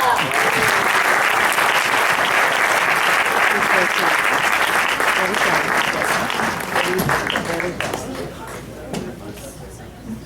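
A large audience at a Hindi kavi sammelan poetry event bursts into loud, dense applause that holds strong and then gradually thins, with crowd chatter mixed in.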